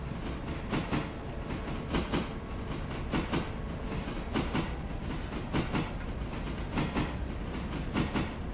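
Long twelve-wagon freight train in the Railroader video game rolling steadily, with a regular clickety-clack of wheels over rail joints repeating throughout at a moderate level, no voices.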